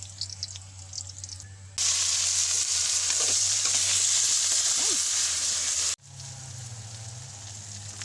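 Onion and garlic sautéing in a pan: a loud, steady hiss of frying bursts in suddenly, holds evenly for about four seconds, then cuts off and drops back to a softer sizzle.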